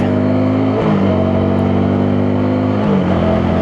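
A Lexmoto LS Z motorcycle, brand new, accelerates through first to fourth gear. Its loud, close engine drone climbs in pitch and then drops twice as the gears shift, with no talking over it.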